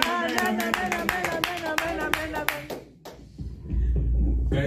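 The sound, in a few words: congregation applauding in church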